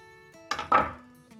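A knife cuts a block of butter in half on a board, giving two quick close knocks, one light and one firmer, over a faint background hum with no talk.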